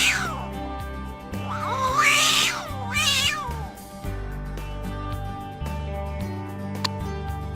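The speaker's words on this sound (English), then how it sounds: "Cat." A cat meows several times in drawn-out, rising and falling cries, close and clear, over a steady backing of music.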